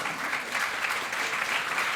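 Steady audience applause fills the room at a lecture on entrepreneurship, a dense continuous wash of many hands clapping, fairly loud and even throughout with no voices over it.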